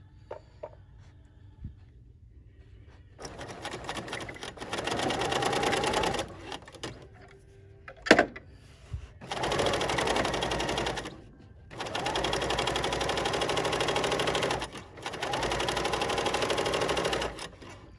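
A Bernina L 890 machine sews cover stitch passes on faux Burberry plaid fabric in four steady, rattling runs separated by short pauses and a sharp click.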